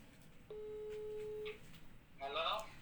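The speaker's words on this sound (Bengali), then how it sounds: "রিং হচ্ছে।" An outgoing phone call rings back with one steady electronic tone lasting about a second, followed by a short pause before a voice answers on the line.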